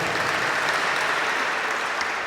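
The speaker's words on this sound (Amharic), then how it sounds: "እስኪ አጨብጭቡ ለጌታ" A church congregation claps together at a book dedication service, a dense, steady wash of applause filling the whole moment without a break.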